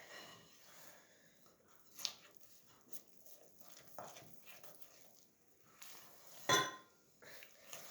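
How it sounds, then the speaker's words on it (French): A spoon works chocolate cake batter and flour in a bowl with soft scraping and stirring, broken by a few quiet clinks against the bowl and one sharper knock late on, all faint and close with no talk. "Je vais ajouter le reste de la farine. Donc voilà, ça se mélange plutôt bien pour le moment."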